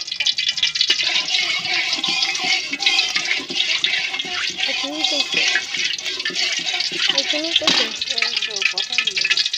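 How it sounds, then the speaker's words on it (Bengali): A vegetable curry with fresh pond fish is stirred in a pan, with a loud, continuous frying hiss, while a voice can be heard over it. "এটা একটু নেড়ে ফেলি।"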